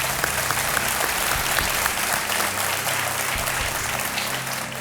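Dense, steady applause from a large television game show studio audience fills the whole stretch, loud and continuous, easing slightly near the end.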